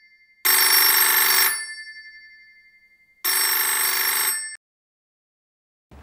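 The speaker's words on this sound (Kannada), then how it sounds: "ಅದು ನಿಮಗೆ ಬಂದಿರೋ ಕಾಲ್, ಹೋಗಿ ಮಾತಾಡಿ." Telephone ringing indoors: two loud electronic trilling rings about a second long each, separated by a pause, then silence with no talking.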